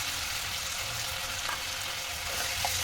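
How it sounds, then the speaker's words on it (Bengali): Boiled potato frying in a pan for dabeli, a steady soft sizzle throughout with a few faint scrapes near the end, close and alone without talk. "ভালো করে ভেজে নেব।"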